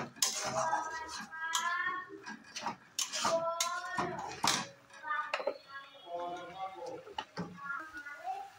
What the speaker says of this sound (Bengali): আবার একটু নেড়ে মিক্স করে নেব।